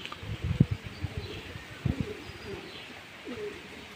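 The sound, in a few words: pigeons cooing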